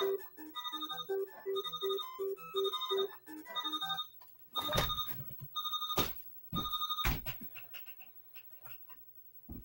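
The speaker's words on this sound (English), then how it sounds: "Shut up, alarm clock." An alarm clock rings in repeated short electronic beeping bursts, first in a steady rhythmic pattern and then in louder, choppier bursts broken by loud crunching and chewing noises up close.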